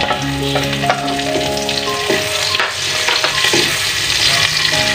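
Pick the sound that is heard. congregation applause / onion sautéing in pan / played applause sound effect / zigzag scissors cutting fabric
onion sautéing in pan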